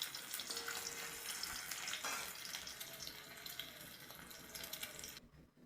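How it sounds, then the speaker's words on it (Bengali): Eggs frying in oil for an egg curry give a soft, steady hiss and crackle with no talking, then the sound cuts off abruptly near the end. "ডিমগুলো ভালো করে ভেজে নেব।"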